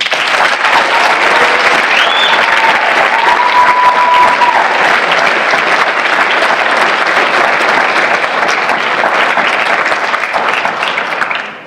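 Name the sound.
audience applause for an award finalist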